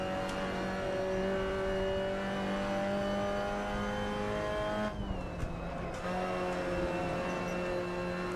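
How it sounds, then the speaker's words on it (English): A race car engine in the sim racing game Assetto Corsa drones steadily at high revs, with a brief dip around a gear change before pulling hard again, loud and continuous throughout. "Back on the throttle as early as possible,"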